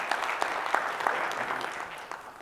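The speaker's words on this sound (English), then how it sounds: "You can clap for that." Audience applause at a city State of the City address in Hopkins, a brief burst of many hands clapping in a hall at moderate level, steady throughout with no speech over it.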